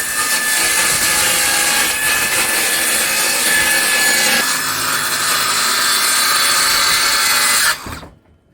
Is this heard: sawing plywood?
yes